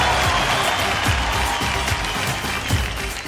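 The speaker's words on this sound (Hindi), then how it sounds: "विशु सर के लिए तालियां" A studio audience applauds a judge on the Indian Idol stage, with dense, sustained clapping filling the room at a steady level for a few seconds.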